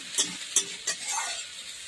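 Chopped onions frying in a pan for a fish-head and Malabar spinach dish: a steady, close hiss of sizzling oil with a few sharp stirring scrapes near the start.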